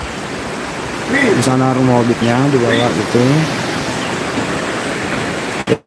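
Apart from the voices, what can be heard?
waterfall (curug) water roaring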